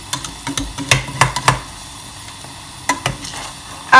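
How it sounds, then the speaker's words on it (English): Egg stirred into a hot sizzling pan: soft frying crackle under a string of sharp utensil scrapes and taps against the pan, close and uneven, with no talking. "we're just going to stir in the egg"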